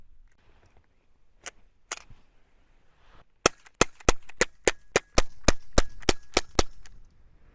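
An air gun fires Kvintor pellets through a chronograph, giving a run of sharp, evenly spaced shots, two isolated ones first and then about a dozen in quick steady succession, close and loud.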